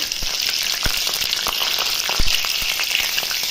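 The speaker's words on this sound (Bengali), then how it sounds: "কড়াইতে তেল দিয়ে দিয়েছি, তেল গরম হয়ে গেছে। এবার জিরা তেজপাতা দিয়ে দেবো, কাঁচা লঙ্কা দেবো," Cumin seeds, bay leaf and green chillies frying in hot oil in a kadai give a steady, close hiss of sizzle broken by frequent sharp crackles and pops.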